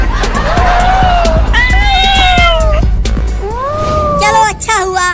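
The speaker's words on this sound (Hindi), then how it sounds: "अरे ये बिल्लियाँ तो मेरे पीछे ही पड़ गई।" Several cats meow loudly and insistently while chasing someone, their rising and falling cries overlapping in quick succession over a busy background with faint crowd noise.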